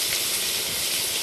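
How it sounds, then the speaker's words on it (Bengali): Rohu fish pieces fry in hot oil, a dense, steady hiss filling the brief moment, close and even throughout. "মাছগুলো দিয়ে ভালো করে ভেজে নেব"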